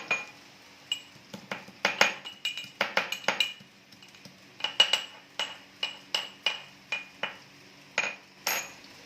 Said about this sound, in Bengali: এতে আমি একটু রসুন থেতো করে দিচ্ছি।